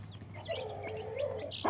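Close, fairly loud clucking from a hen with her newly hatched chicks, a drawn-out low cluck run with a few short higher chirps and a sharper call at the end, with no talk.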